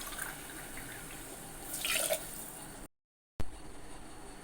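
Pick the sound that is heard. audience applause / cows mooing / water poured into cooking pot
water poured into cooking pot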